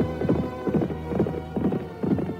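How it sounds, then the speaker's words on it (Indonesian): A radio drama sound effect of a horse galloping through the night, with rhythmic thudding hoofbeat pulses repeating about twice a second over a low droning hum, moderately loud and without voices. "Kuda yang ditunggangi Restu Singgi dan Nilam Cahya melaju menembus kegelapan malam."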